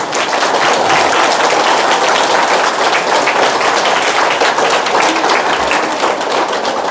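Audience clapping hands at a health talk, a dense, steady wall of applause that holds loud and even from start to finish with no voices standing out.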